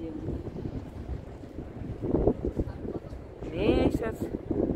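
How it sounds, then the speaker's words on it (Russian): Night wind in Dubai's old town near the waterfront rumbles and gusts against the microphone, swelling near the end, under people talking close by. "Ой, ветер хорошо поддувает."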